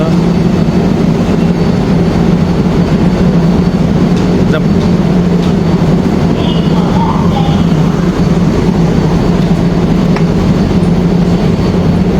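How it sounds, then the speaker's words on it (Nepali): Steady, loud rumbling of a train running continuously, with a broad low roar and faint clatter throughout; talk in the background. "फाइनल चाहिँ ट्रेन आएको अवस्था छ अब हामी यहाँ ट्रेनबाट जान्छौँ"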